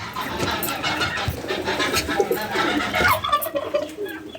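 Chickens and ducks on a home poultry setup cluck and chatter in a busy, continuous mix of overlapping calls at moderate distance, with some faint background noise.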